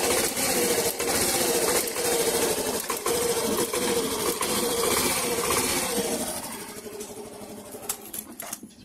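A Yamaha Mio i125 scooter engine runs at idle with a rapid, steady mechanical ticking under its hum, loud and close, easing slightly toward the end.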